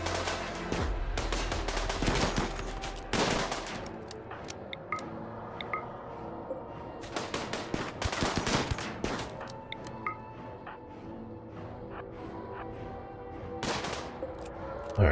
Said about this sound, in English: Let's focus fire on those that have more dangerous weapons